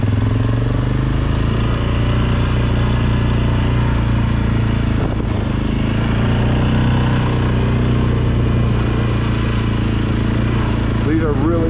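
ATV engine running on tight forest trails near Luzerne, Michigan, a loud continuous drone heard from the rider's position throughout, with a brief dip partway through and some wind or rattle on top.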